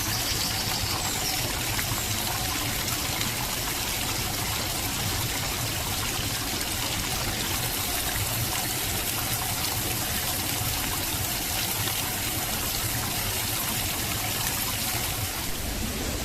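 Steady, continuous flow of the River Rivelin at the old Upper Coppice mill wheel site, a broadband rushing and trickling that stays even and close throughout with no talk.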